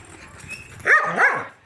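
A dog gives two quick, loud barks close by in a yard, the first one breaking sharply out of quiet background noise.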